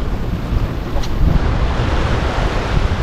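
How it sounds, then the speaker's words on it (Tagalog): Strong wind buffets the microphone outdoors, a steady rushing roar with a low rumble, like gusts near open water. "Galing kasi dito yung hangin."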